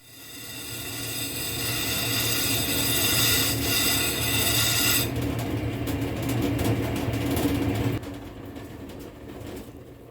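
Lapidary cabbing machine grinding an agate on a 220-grit wheel: a steady, loud whirring drone with rushing grit noise, continuous throughout and dropping slightly in level near the end.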